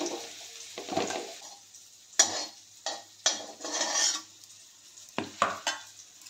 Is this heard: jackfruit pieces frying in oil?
yes